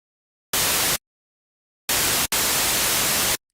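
White noise from an Arturia Pigments software synthesizer plays in three bursts: a short blast, a pause, then two longer bursts separated by a tiny gap, each starting and stopping abruptly with silence between.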